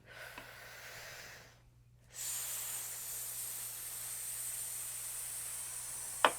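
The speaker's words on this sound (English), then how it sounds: "You're gonna take a deep inhale and you're gonna slowly exhale on an S." A deep inhale followed by a long, steady exhale through the teeth on a sustained hissing S sound, close and quiet, ending with a brief breath.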